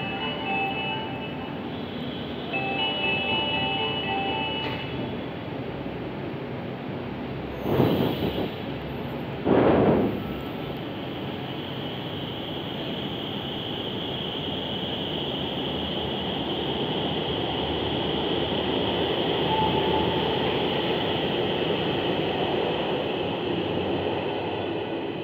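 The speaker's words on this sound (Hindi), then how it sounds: "मेट्रो चली गई है" A long, steady rumble of a Kanpur Metro train pulling away from the station, with a couple of brief louder thuds partway through and the roar swelling gradually toward the end.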